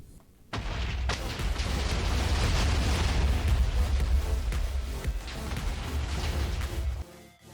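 A big Minecraft explosion bursts in suddenly and rumbles as a loud, sustained low roar with crackling debris for several seconds before cutting off abruptly.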